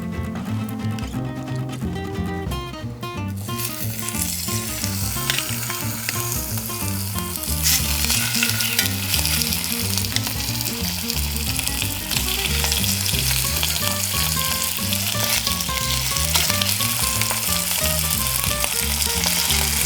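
Chicken pieces frying skin side down in olive oil in a single pot, a loud, steady sizzle and crackle that runs unbroken and grows slightly stronger partway through, with no talking.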